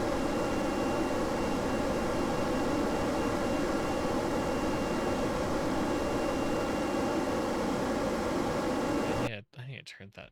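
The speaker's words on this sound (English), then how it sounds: "Why are jet engines so much louder than rockets?" A jet engine roars in the game Kerbal Space Program, a loud, constant broadband hiss and rumble that cuts off abruptly near the end, leaving brief scraps of sound.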